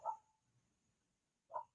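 Dogs bark twice in a quiet room, each a short single woof about one and a half seconds apart, faint and somewhat distant, with no talking.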